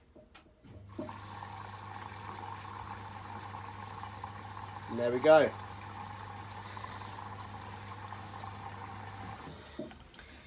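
A Bosch Serie 8 WAYH8790GB washing machine, set to a 60° cotton SpeedPerfect cycle with Water Plus, hums steadily while water rushes into the drum, with a brief louder gush midway, as a person speaks briefly nearby.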